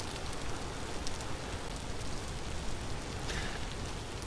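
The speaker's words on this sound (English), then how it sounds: "It is raining." Rain falling in the survival game Vintage Story, a steady soft hiss of drops pattering on surfaces, even and continuous, fairly quiet and with no voices.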